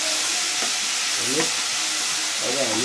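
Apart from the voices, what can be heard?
garlic paste sizzling while frying in a pan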